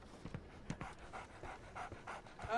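A dog in Sherlock Holmes: The Awakened pants rapidly and rhythmically at close range, a steady run of quick breathy huffs with no other sounds.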